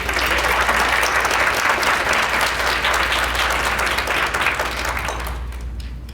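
A lecture-hall audience applauds to welcome a speaker at an evening talk on human trafficking in St. Louis: sustained, dense clapping from a sizable crowd, steady throughout and tapering off near the end.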